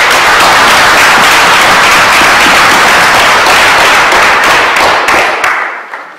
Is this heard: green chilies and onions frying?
no